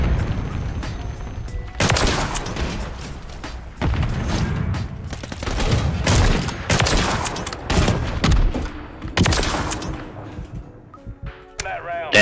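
Video game shotgun fire, heavy blasts repeating every second or two amid bursts of other gunfire and mechanical clatter, loud and close, with someone talking between shots.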